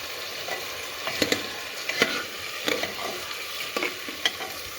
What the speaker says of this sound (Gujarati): તો આપણે મિક્સ કરી દઈએ ફટાફટ.